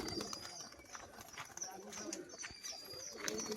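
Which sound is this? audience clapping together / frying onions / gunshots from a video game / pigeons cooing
pigeons cooing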